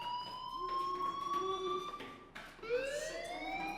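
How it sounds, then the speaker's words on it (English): A fire alarm blares inside a video game set in Arcadia Bay, a loud electronic tone in steady rising and falling sweeps that drops out for a moment and then returns at a higher pitch. "Hey, do you hear that fire alarm?"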